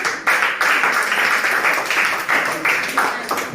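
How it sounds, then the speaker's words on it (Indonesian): A classroom gives a student a round of applause, brief bursts of clapping from a small group of hands, close and fairly loud, with no voices. "Oke, kita berikan aplaus untuk teman."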